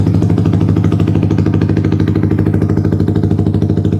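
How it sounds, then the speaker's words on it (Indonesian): A Yamaha XSR 155 motorcycle exhaust throbs loudly and up close, a fast, steady pulsing beat that holds an even pace throughout. "Ini bakal gue tes suaranya. Suaranya dari knalpotnya kayak gini."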